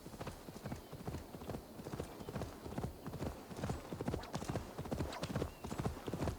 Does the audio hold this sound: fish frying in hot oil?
no